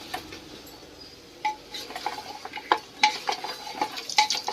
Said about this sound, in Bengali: এমনি নুন জিরে মরিচ দিয়ে এই যে সিদ্ধ ডিমগুলো আলুটা কষানো হচ্ছে